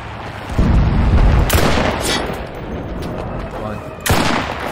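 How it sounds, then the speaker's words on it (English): Artillery strike explosions in a video game, with heavy booms and dense rumbling blasts that overlap into a loud sustained barrage, a fresh impact landing near the end. "look at our artillery strike."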